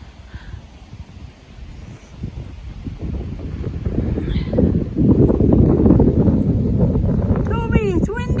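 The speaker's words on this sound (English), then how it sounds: "you hear the wind?" Strong wind blowing outdoors on a cold, windy morning, a broad low rumble of buffeting gusts against the microphone that builds louder toward the middle and stays steady, with a brief voice near the end.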